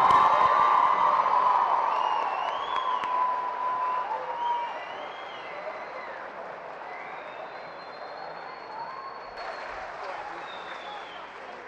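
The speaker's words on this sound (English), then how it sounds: "Let's give a round of applause for the entire class of 2015." Applause for the Harborside Academy class of 2015 at its graduation ceremony, loudest at the start and thinning over the following seconds to a lighter, scattered clatter, with cheering and talk mixed in.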